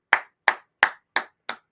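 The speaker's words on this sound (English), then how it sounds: "I'm gonna clap my hands to that." Five sharp, loud hand claps in an even, brisk rhythm, close and crisp with silence between each clap and no talking.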